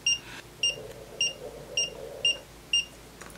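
A multimeter gives six short, high beeps at a steady rhythm, about half a second apart, with faint background hum, while testing diodes during repair of a Datron 4700 calibrator.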